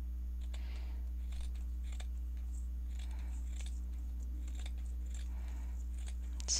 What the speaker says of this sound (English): I'll use this lace and then I'm gonna cut it because it's too big